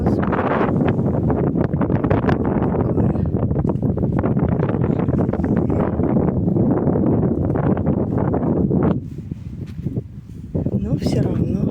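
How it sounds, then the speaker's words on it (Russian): Strong wind blows outdoors on an overcast spring day, a loud continuous roar of gusts buffeting the microphone that eases off briefly near the end. "Ветер дует пасмурно."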